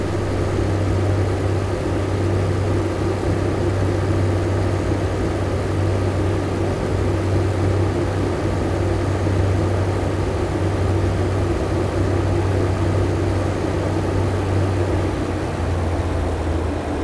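Class 142 diesel multiple unit engine at full power in the Train Simulator 2015 video game, a steady loud droning hum with a strong low throb, unbroken and even for the whole stretch.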